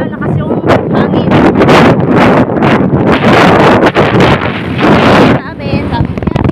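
Strong wind buffeting the microphone in loud, gusty bursts that largely drown out a voice speaking underneath, easing briefly near the end.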